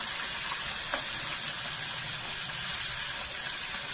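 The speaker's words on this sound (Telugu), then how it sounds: "కాకరకాయకి పసుపు ఉప్పు రాసేసి ఇలా డీప్ ఫ్రై చేస్తున్నాను" Bitter gourd pieces rubbed with turmeric and salt deep frying in oil over a medium flame, giving a steady, even sizzle that runs unbroken throughout with no voices.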